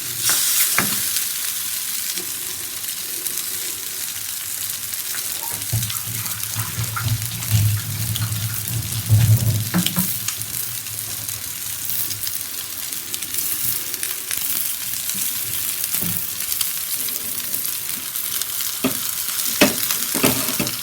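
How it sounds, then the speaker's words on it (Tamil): Fish fingers fry in ghee in a pan with a steady close sizzle, broken by occasional clatter and stirring sounds, with no talking over it. "சீக்கிரமாக வெந்துடுங்க ஃபிஷ்ஷு, ரொம்ப டைம் எடுக்காது நமக்கு."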